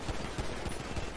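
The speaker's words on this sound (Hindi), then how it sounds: "गोलियां चल गई, गोलियां चल गई।" Gunfire in a GTA roleplay game, a quick string of about five sharp shots at an even rhythm, set against a dense, steady background noise.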